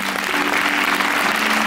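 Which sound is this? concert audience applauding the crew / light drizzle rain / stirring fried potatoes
concert audience applauding the crew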